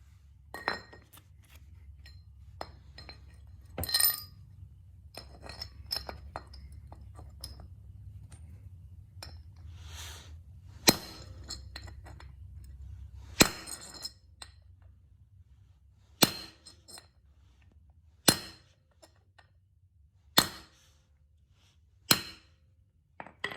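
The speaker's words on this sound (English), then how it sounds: "we're tapping these in until they're fully seated" Sharp metallic taps ring out one after another, spaced a second or two apart, over a low steady hum with faint clinks between, as parts are tapped until fully seated during a Kia Sportage lift kit install.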